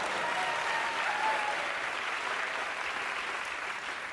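A studio audience at a comedy talk show breaks into continuous, even applause, a dense wash of clapping holding steady throughout before easing slightly at the end.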